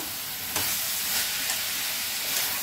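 Mutton liver and onion are stir-fried dry in a pan, producing a steady hiss of sizzling with a few soft scrapes and knocks from stirring, close and moderately quiet.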